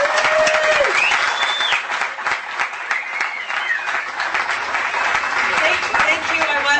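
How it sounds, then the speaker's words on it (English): Audience at a bike talk event gives a team a big round of applause: dense, loud clapping sustained throughout, with some voices and cheers mixed in. "A big round of applause for Mary and her team."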